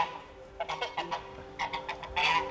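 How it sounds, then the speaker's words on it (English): A bird calls with harsh, goose-like honks in a few irregular bursts of repeated cries, fairly close, with no talking. "Crazy bird."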